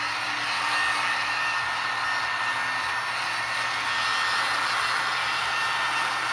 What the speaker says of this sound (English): I'm helping it out with a little bit of heat here, just real low heat setting on my heat gun